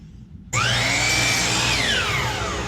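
Power saw starts abruptly and makes a loud, sustained cross cut through a wooden board, likely a 2x4, while building floating shelves; steady whine with a rising and falling pitch sweep as the blade passes through the wood.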